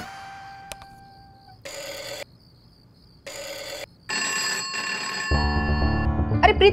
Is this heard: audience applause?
no